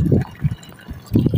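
Water flowing through a rice paddy field outdoors, a soft, steady gurgling wash with a few louder bursts, no talking.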